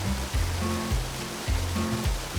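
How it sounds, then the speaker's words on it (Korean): A cool mountain valley stream pours through a remote forest in a steady, close rush of water, with faint low rhythmic thumps pulsing underneath. "쏟아지는 물소리에"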